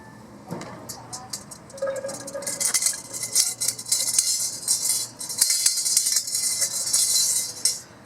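Vegetables going onto a NexGrill grill with tongs and a spatula: scattered metallic clinks and scrapes of utensils against the grate, growing busier and louder toward the end, with a voice speaking intermittently.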